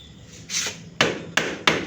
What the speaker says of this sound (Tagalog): Ito yung martilyo na rubber yung dulo. So, ipalo mo siya dito.